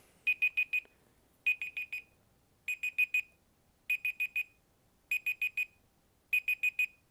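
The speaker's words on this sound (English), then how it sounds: "I have no idea why this thing is beeping." A Google Pixel 7 Pro or Pixel Watch beeps in bursts of four rapid electronic alarm tones that repeat at a steady rhythm, clear and fairly close in an otherwise quiet room.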